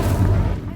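Incendio fire spell cast in Hogwarts Legacy, one short, loud, booming whoosh of flame with a deep low rumble that fades within a second.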